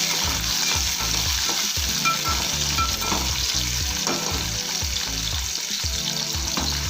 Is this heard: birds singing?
no